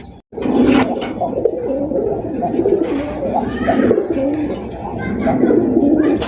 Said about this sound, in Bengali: বিগ সাইজের ইন্ডিয়ান নতুন কবুতর